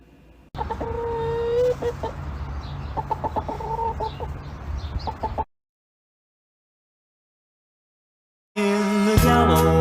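Several loud chicken clucks and squawks close by, irregular and busy with background chatter-like noise, then a sudden silence before a burst of clucking resumes.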